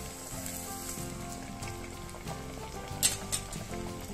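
Sabudana vada frying in hot oil, a steady crackling sizzle that runs throughout at moderate volume, with a few sharper pops and spatters near the end.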